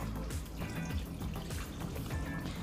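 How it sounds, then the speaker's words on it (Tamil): Water poured from a small pot into a pressure cooker holding amaranth greens for a South Indian keerai masiyal, a steady close splashing gush that runs continuously without pause. "நம்ம இதை வேக வைக்கிறதுக்கு ஒரு சொம்பு தண்ணி வச்சுருக்கோம் அந்த தண்ணியை அதில் சேர்த்துடலாம்"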